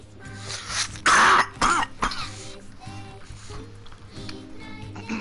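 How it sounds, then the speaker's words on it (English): A man coughs and clears his throat close to the microphone, a couple of harsh bursts early on followed by softer throaty rasps over a steady low background hum. "Just like got a cough, kind of weird right now"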